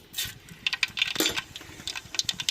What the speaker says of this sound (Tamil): எண்ணெய் சூடாயிருச்சு. கடுகு உளுந்து போட்டுக்கிறோம்.